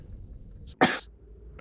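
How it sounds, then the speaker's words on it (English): A single sharp cough bursts out close to the microphone against a low, murky background, brief and forceful, followed by faint murmuring. "Coughing"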